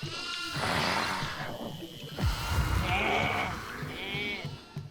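A goat in the video game Devour bleats a few times, wavering and nasal, over a busy background of rumbling and clattering noise.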